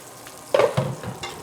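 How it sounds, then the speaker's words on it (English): A bison burger sizzles in a hot pan, with short bursts of crackling fat, close and moderately loud, and no voices. "It's starting to slow down the sizzle now"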